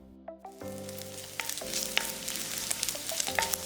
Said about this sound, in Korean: 중약불에 볶음팬 올려서 베이컨을 노릇하게 볶아주고